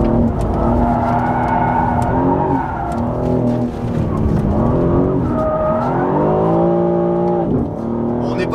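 A BMW M3 CS G80 from 2023 holds a loud, steady engine note as it works through a tight hairpin, its pitch sweeping down and back up while it brakes and accelerates. A tyre squeal rises near the end.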